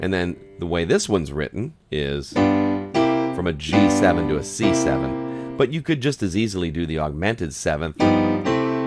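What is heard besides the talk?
No distinct noise like a dog, phone or traffic.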